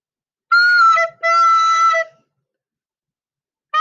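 Recorders play single sustained notes one after another, a short tone, then a longer one, a pause, and another note starting.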